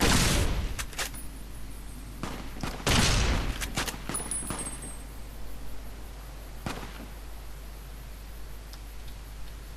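A rifle fires in Fallout: New Vegas, Honest Hearts add-on, a sharp loud crack near the start followed by a second heavy report around three seconds in, then a few fainter ticks over steady background hiss.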